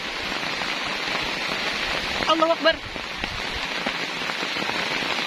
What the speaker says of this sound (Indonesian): jadi ini hujannya hujan badai kabut